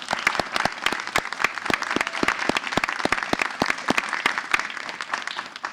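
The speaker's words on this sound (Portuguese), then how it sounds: "salva de palmas, por favor" Applause from a small live audience at a poetry event, with sharp individual claps standing out above a steady bed of smaller clapping that carries on evenly, then eases off slightly at the end.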